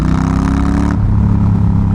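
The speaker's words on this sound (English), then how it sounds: "When they're just towing themselves down, engine braking, it sounds good." A Honda Rebel 1100 motorcycle with its muffler removed rumbles loud and close while engine braking, a deep, uneven throbbing exhaust note that drops in pitch and turns duller partway through.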